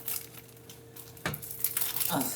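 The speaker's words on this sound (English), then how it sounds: "Let's open it up. The unwrapping." Plastic wrapping on an instant seafood noodle package crinkles and tears in short bursts, close and moderately loud.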